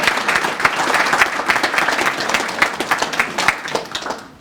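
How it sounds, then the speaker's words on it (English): An audience at an underage substance use reduction awards event applauds for Purdue, steady clapping with distinct individual claps that thins and fades toward the end. "So round of applause for Purdue."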